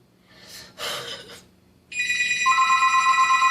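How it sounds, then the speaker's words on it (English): A telephone rings with a steady, loud electronic trill that starts partway through and holds on alone to the end, after a couple of brief breathy sounds and no talking. "And then the phone rings."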